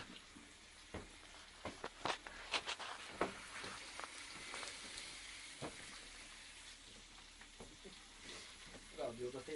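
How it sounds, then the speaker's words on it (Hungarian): Food sizzling and frying in a pan at a mountain spot, with a continuous crackle broken by sharp pops and stirring clatter, and people talking quietly in the background. "Nagyon sül a kaja."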